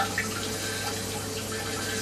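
Water spray from a Kogan electric smart wash and dry bidet toilet seat on its strong setting, a steady close hiss of rushing water with no pauses across the whole stretch.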